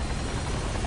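A helicopter lifts off in Far Cry 3, its rotor and engine making a dense, steady roar that fills the whole moment without a break, close and loud with no one speaking.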